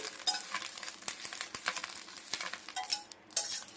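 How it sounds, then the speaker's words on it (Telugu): Curry leaves crackle and sizzle in hot oil in a pan while being stirred for a spicy curry leaf powder, with brisk irregular pops and light scraping, close and moderately loud, and no voices. "ఇప్పుడైతే కరివేపాకు ఫ్రై చేస్తున్నామండి ఇది మంచిగా ఫ్రై అవ్వాలి"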